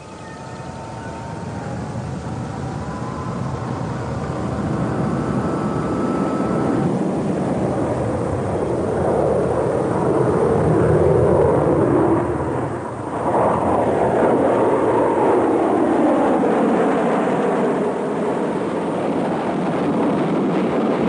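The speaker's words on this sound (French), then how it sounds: "devait utiliser son démarreur intégré pour faire partir son réacteur" A Douglas A-4 Skyhawk jet engine spins up on its integrated starter, a loud, continuous, rising roar with a rushing whine that holds steady for a long stretch.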